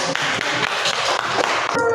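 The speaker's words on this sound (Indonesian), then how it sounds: "Oke, tepuk tangan." A classroom of students clapping after a presentation, dense, continuous, close applause of many hands lasting about two seconds with no talking.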